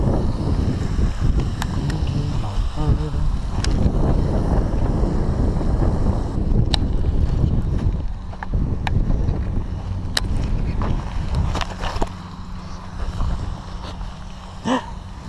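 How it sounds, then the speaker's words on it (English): Strong wind buffets the microphone beside a fishing pond, a loud, continuous roaring rush with gusting swells and a few brief knocks, no talking over it. "It's gonna be really windy, so I'm not really gonna talk much."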